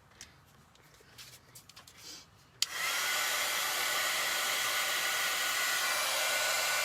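After a few quiet seconds of light handling noises, a hair dryer clicks on and blows a loud, steady whooshing hiss across painted gnome figures, and it keeps running without a break.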